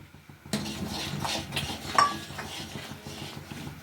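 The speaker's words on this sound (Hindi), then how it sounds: "डाल रही हूँ इलायची का पाउडर।" A spoon clinks against dishes as cardamom powder is added to sweetened milk for a dessert, with a few sharp metallic taps over soft kitchen clatter.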